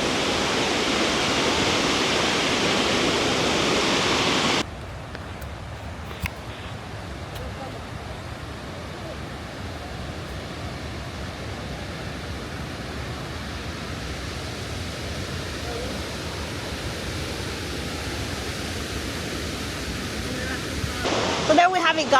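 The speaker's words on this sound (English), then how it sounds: "Victoria Falls, the world's largest waterfall, the smoke that thunders, and man, is it thundering." Victoria Falls in Zimbabwe thunders as a constant, dense roar of falling water, very loud at first, then slightly softer but unbroken for the rest of the stretch, with no voices over it.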